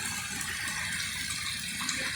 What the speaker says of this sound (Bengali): ওখান থেকে খুব জল আসছে ওদিক থেকে